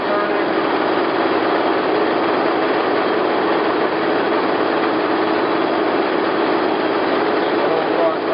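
An engine lathe, a used Select gap bed model 1880GH, runs in threading mode with a steady, dense mechanical whir and hum that holds constant and loud throughout.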